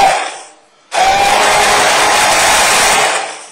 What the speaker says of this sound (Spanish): vamos a batir la salsa